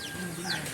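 Chickens cluck nearby in a short, faint burst of a few soft, rapid calls against quiet rural background noise.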